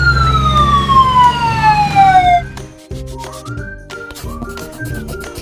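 An ambulance siren sounds loud and close in a long, falling wail with strong overtones for about two seconds, then cuts off abruptly as a tonal melody takes over.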